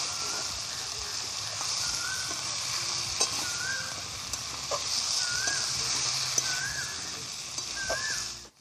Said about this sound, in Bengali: সব সবজিগুলো আমি একসঙ্গে ভালো করে মিক্স করে নেব।